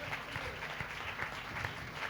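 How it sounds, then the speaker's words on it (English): A crowd applauds after the cast of a devotional drama is introduced, the clapping faint and distant, a soft continuous patter without a clear rise or fall. "Please give a big round of applause."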